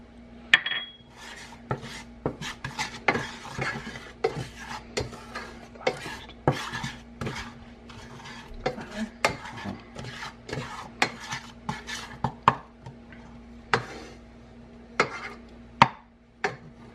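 Butter being stirred in a pan on the stove for mac and cheese pizza, giving repeated scraping and clinking strokes of a utensil against the pan, close and fairly loud, in an irregular rhythm with no voices.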